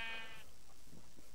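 A sheep in the video game Minecraft gives a single wavering bleat near the start, clear and moderately loud, followed by quiet game ambience.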